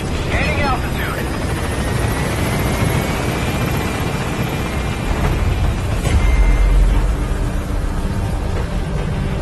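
The Pequod helicopter lifts off in Metal Gear Solid V, its rotor wash roaring as a loud, dense whoosh with a deeper rumble swelling near the end, a radio voice speaking over it.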